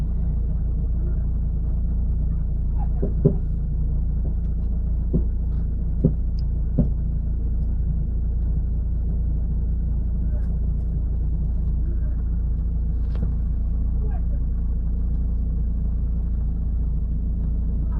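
A car's engine rumbles steadily from inside the cabin as it pulls away, a low continuous drone with a few faint clicks and knocks scattered over it.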